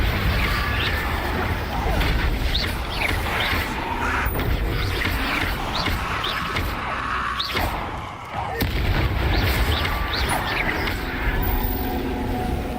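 Confringo blasting spells from Hogwarts Legacy go off repeatedly in a busy fight, with explosive bursts recurring over a dense background of combat noise and voices.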